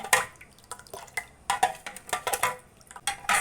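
Soaked basil seeds being stirred into a tukh malanga sharbat drink, with a series of quick, close liquid clinks and splashy spoon strokes in uneven rhythm.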